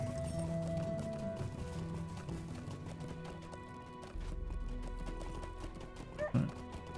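Horse hoofbeats clop in a steady rhythm as a rider travels across terrain in the video game LOTRO (The Lord of the Rings Online). A low rumble joins partway through, and the hooves stay fairly close with no talking.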